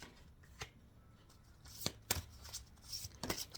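Tarot cards being shuffled and drawn, giving quiet riffles and a few sharp slaps and flicks in an irregular rhythm, close up and without talk.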